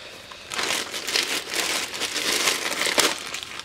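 A survival kit package is cut open, its plastic wrapping giving a loud, close, continuous crinkling and crackling that lasts about three seconds.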